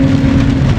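Heavy rain from Typhoon Kristine drums steadily on a small Suzuki S-Presso AGS car driving through flooded streets near Imus, a loud, dense, continuous wash with a low engine hum beneath.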